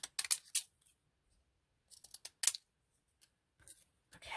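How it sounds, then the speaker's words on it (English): Plain scissors snip through a paper picture in short bursts of crisp cuts, separated by pauses of near silence, close and clear. "this is the one that I just cut the picture with plain scissors"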